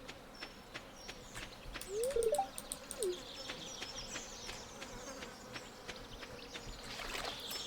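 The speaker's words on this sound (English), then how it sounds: "Can't tell if the buzzing that I keep hearing is in-game" A buzzing insect in the Stardew Valley farming game, a faint thin drone with a few brief chirping game tones, heard alone without talk.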